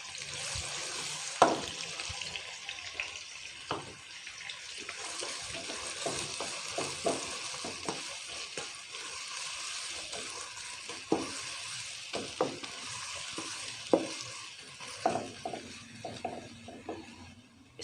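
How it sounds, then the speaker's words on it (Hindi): Onions fry in oil for an egg curry, a soft steady sizzle broken by frequent scraping stir strokes, close but fairly quiet. "प्याज को अच्छा सा फ्राई कर लेते हैं"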